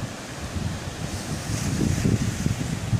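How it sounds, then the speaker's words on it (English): Sea waves splash over rocks on a beach, a steady roaring wash of surf with gusty wind noise that swells louder toward the end as a wave breaks close by. "Look at those waves splash over the rocks."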